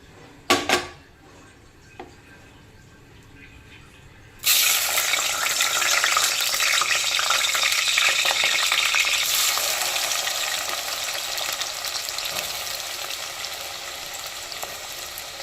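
A few clinks and a splash open, then onions and green chillies hit very hot oil for a chicken egg curry, bursting into a loud, sustained, close-up sizzle that carries on to the end without any talking.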